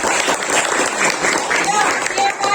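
Schoolchildren in a classroom break into applause, a dense patter of clapping with a few voices talking over it.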